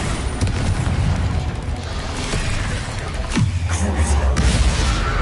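The Bombarda spell from Hogwarts Legacy goes off as a deep booming explosion with a mechanical rumble trailing after it, loud and close, with no talking.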